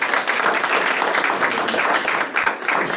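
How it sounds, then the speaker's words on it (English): A crowd at a business stakeholder meeting claps in a dense, steady burst of applause that holds for a few seconds without a break. "let's give a round of applause"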